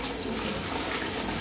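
A toilet flushes in a rented Mentari Court unit, a loud close rush of water pouring steadily through the whole short stretch with no talk over it.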